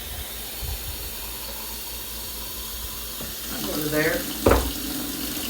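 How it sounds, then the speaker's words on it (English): Tap water runs into a container during keto meal prep, a steady hissing flow throughout with a rising gurgle as it fills. A brief spoken word comes in partway through. "Now you just add water."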